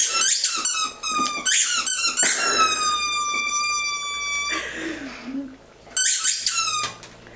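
Squeaky toy pressed and slowly let to reinflate, producing loud, close, drawn-out squeals with rising and falling pitch, including a long sustained whine; no talk over it.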